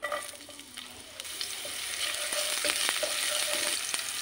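Spring onions hit hot oil in a stir-fry pan, and a soft sizzle swells into a fuller, crackling hiss that holds steady, close and alone.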